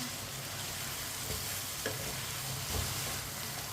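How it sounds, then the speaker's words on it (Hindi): Chicken pieces fry in a pan for a chicken and rice dish, giving a steady low sizzle with a few soft scrapes and knocks of stirring, heard close and without talk. "चिकन को मैंने 6-7 मिनट के लिए फ्राई कर लिया है।"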